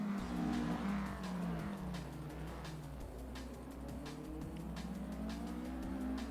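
A Porsche 718 Cup race car brakes at the Norisring circuit. The engine note falls sharply with downshift blips and faint tire noise, loud and close, and no voices are heard.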